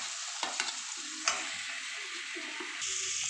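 Garlic paste sizzling and frying in a pan with softened tomato and onion, stirred with a few sharp scrapes over a steady close hiss, for a spicy tangra fish curry.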